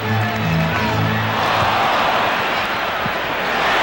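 A basketball arena crowd roars steadily at an NBA playoff game, Knicks versus Bulls, Game 7 of the 1992 Eastern Conference second round. Loud, continuous, with a commentator talking over it.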